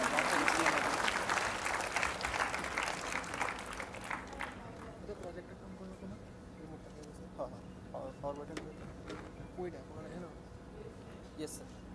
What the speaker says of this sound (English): a huge round of applause for the expert speaker